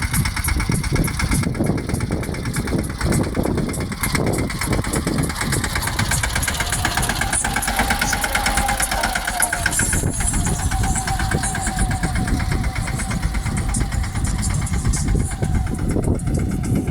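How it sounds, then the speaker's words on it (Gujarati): A tractor engine drones steadily and loudly throughout, driving a groundnut thresher, with a rhythmic mechanical knocking and machinery clatter running continuously. "જીગરભાઈ હાથી લઈને આવે છે, એની ટ્રેક્ટરથી હાથી ચાલુ છે."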